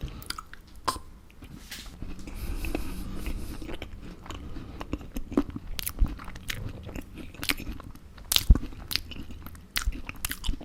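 Close, crisp bites and moist chewing as someone eats mince pies with ice cream, with crunchy snaps scattered irregularly over soft mouth sounds and no talking.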